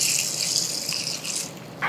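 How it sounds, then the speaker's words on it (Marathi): Water pours into a bowl of Solapuri sorghum grains, a steady close splashing gush that runs the whole short moment and swells briefly at the end. "आता यामध्ये पाणी घालूयात"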